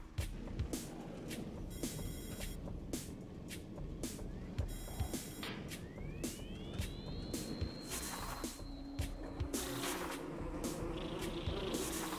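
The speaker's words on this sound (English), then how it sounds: "Not the bees." Bees from Metroid Prime Remastered buzz steadily throughout, a dense droning swarm mixed with game effects, a rising whine and sharp clicks, with no talking.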